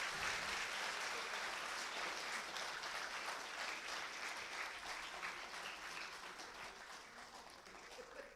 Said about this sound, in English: Give a round of applause, a thunder of round of applause